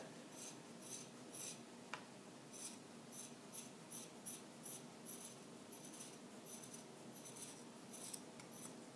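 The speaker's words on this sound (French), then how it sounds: "Donc je prends mon petit ciseau. Hop, et je coupe." Small scissors snip through a sock. A quiet series of soft crisp cuts comes in an uneven rhythm, close up, with no talking.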